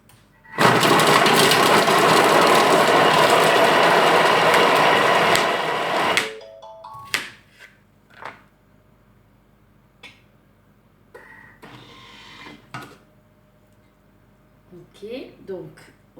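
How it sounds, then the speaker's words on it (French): An electric kitchen mixer whirs loudly for about six seconds as it blends onion and other vegetables for an omelette, then stops, followed by quieter clinks and handling noises. "Attention, ça va mixer."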